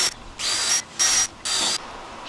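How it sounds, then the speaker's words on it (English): Power drill boring a 1/8 inch pilot hole for a screw while mounting a PTZ security camera, running in three short loud high-pitched bursts with brief pauses between them, close and alone. "We're going to drill just a quick 1/8" pilot hole for the screw,"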